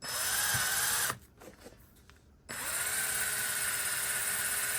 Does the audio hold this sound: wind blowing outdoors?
no